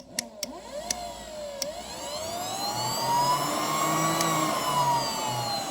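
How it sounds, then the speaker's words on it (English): An aftermarket secondary air pump blower made in China is powered up on a 2005 BMW 325xi. A few sharp clicks come first, then a steady rising electric whine and rushing hum that runs continuously close by. "we'll see if this made in China blower pump, secondary air pump, that is, let's see if it does anything"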